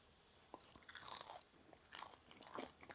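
Crispy skin from a floured, air-fried chicken thigh crunches loudly in a series of close bites and chews, with no talk over them.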